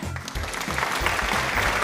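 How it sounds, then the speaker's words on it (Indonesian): Students applauding for Gus Dur (Abdurrahman Wahid) during a school history presentation, a brisk, continuous burst of clapping from a group, with a low hum beneath it. "Tepuk tangan buat seorang Gus Dur ya kak ya"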